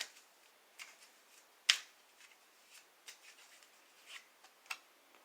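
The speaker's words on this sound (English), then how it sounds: "So with deck number 1, I'll give it a few shuffles." A deck of cards being shuffled a few times, heard as faint, quiet riffles and soft taps spread out with gaps between them, alone and without any talk.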